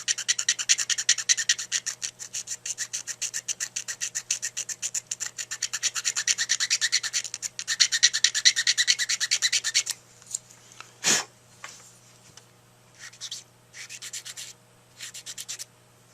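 A 220 grit sanding pad rubs back and forth on a chipped tip in rapid, even rasping strokes, loud and close, for about ten seconds before stopping, followed by a sharp knock and a few brief scratchy passes.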